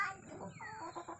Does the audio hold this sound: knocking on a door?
no